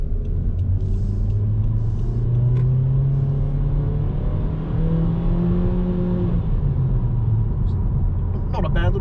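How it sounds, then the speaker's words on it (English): A small Honda car in sports mode, its little engine revving under acceleration while driving, with the drone climbing steadily in pitch for several seconds before easing off, close and loud over a rumbling cabin. "Not a bad little revvy little motor."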